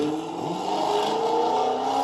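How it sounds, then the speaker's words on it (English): Cars passing by outside, a steady engine drone and tyre hiss swelling slightly as a vehicle goes past, moderately loud and continuous with no talk. "I hate those cars so much."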